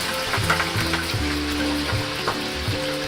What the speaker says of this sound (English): my oil's hot, and now I'm going to very slowly add my french fries